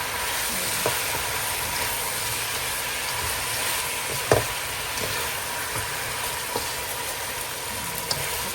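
Chicken with potatoes, oyster sauce and soy sauce stirred in a pan, a steady close sizzle with occasional sharp scrapes and clicks of the utensil against the pan, no voices.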